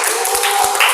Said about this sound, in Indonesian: Oke, tepuk tangan lagi untuk Ica.